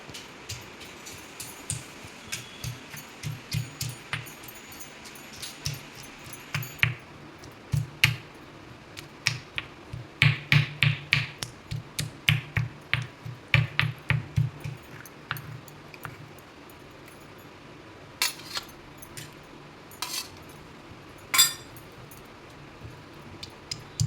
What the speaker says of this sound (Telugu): దోసకాయ ముక్కలు ఒక్కొక్కటిగా వేసి దంచుకుందాము